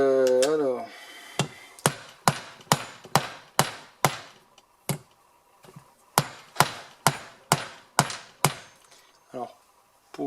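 Someone hammers a pulley onto a G40 compressor with a run of about fifteen sharp, evenly spaced taps, close and fairly loud, pausing briefly midway. A voice speaks just before the first blow.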